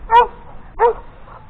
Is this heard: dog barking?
yes